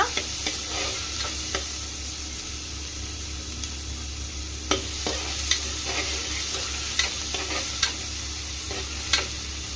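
Chopped tomatoes fry for dal fry in a pan, making a constant low sizzle broken by a series of sharp spoon scrapes and taps every second or so, close and without speech.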